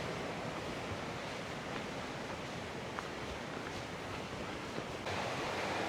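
Steady broadband rush of a river flowing through a deep gorge, continuous and even, heard alone outdoors with no talking.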